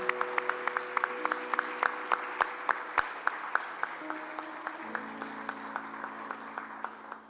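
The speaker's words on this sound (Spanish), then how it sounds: "así que le damos un aplauso" Rhythmic clapping from a church congregation, steady evenly spaced claps over a sustained organ or keyboard chord that shifts pitch midway, moderately loud and continuous throughout.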